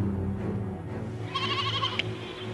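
Goat in an Islamic children's cartoon giving a clear, wavering bleat over a low background hum.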